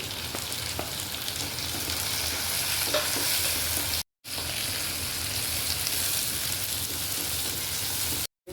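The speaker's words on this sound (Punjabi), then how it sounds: "ਹਰੀ ਮਿਰਚ ਨੂੰ ਵੀ ਭੁੰਨ ਲਾਂਗੇ" Onion and green chillies fry in a pan for a maa chole dal. A loud, steady sizzle runs throughout, with stirring scrapes and no talk.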